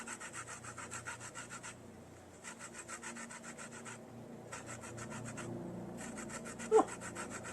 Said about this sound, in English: we could maybe grate a bit of orange in